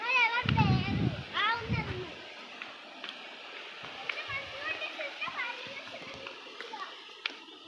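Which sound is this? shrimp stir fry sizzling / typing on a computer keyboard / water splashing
water splashing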